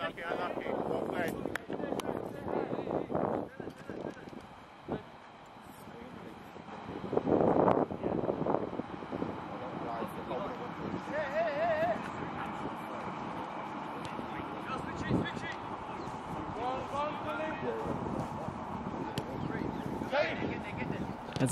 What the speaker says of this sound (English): As you can see, it's a pretty windy day at Northolt.